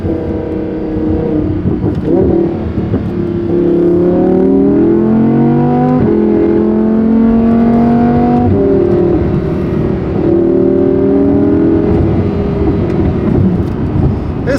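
Supercar engine revving hard with rising and falling harmonic sweeps and crackling exhaust pops, loud and close throughout, no talk.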